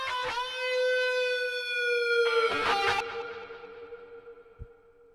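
An electric guitar note rings out sustained, bends upward and slides back down, then reverb blooms and trails the tone into a fading wash, played alone without any voices.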